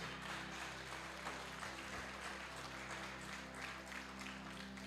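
An audience applauds in a continuous, even wash of clapping that holds at a fairly quiet level for the whole stretch.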